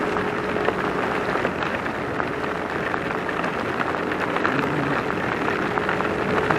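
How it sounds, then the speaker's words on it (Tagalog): Heavy rain falls in a dense, steady hiss of drops on the road surface, loud and unbroken, with a motor scooter ride in wet conditions and no talk. "Grabe. Lakas. Grabe ulan."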